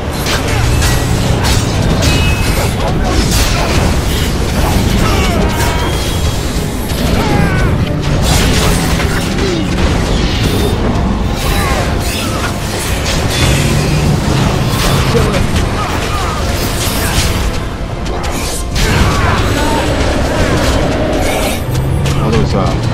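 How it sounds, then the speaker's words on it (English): A fire attack in Dragon Age: Origins bursts into continuous, dense battle noise: loud rumbling booms, crashes and clanking mechanisms pile up without a break, with faint voices buried in the din. "there's a fire attack coming"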